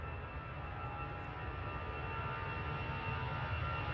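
An EasyJet jet departing Manchester Airport at night for Barcelona, with a steady, fairly faint engine roar and a thin whine, building slightly toward the end.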